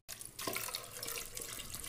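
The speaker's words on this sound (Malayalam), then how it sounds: "മുങ്ങി നിൽക്കാനുള്ള വെള്ളം ഒഴിച്ചാൽ മതി." Water pours in a steady, continuous stream into a sambar mixture before pressure cooking, a close, even splashing rush that runs unbroken without any talking.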